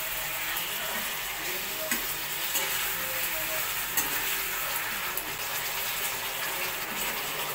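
Chilli baby corn in chilli sauce is stirred in a pan over a gas flame, a continuous sizzle and fry with scraping and shuffling strokes, close and fairly loud, with no speech.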